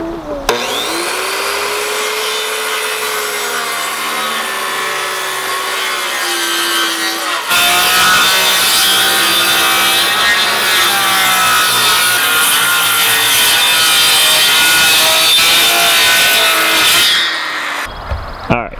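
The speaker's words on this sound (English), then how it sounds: "I got a line to go down to cut with a sawzall on my skill saw" A circular saw rips loudly through wood along a chalk line during a mobile chicken coop build, a long continuous whining cut with a change in pitch partway through before the blade spins down.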